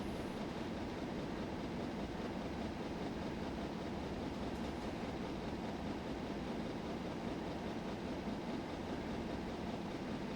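Steam train running steadily along the rails between Exeter and Plymouth in Train Simulator, a continuous dense rumble and rolling roar with no talk over it.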